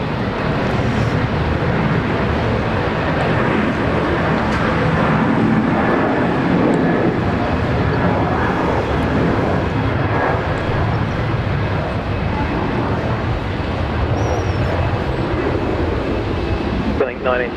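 A United Boeing 777 airliner departing Brisbane International Airport, a loud, steady, broadband engine roar that fills the whole stretch without letup, with wind rumble against the microphone.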